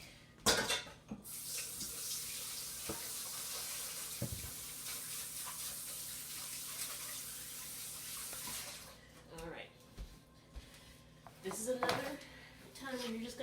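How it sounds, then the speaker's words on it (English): Water runs steadily from a kitchen tap as hands are washed while preparing kebab meat, a continuous splashing stream for several seconds that then cuts off, followed by clinks and handling noises. "Wash my hands real quick."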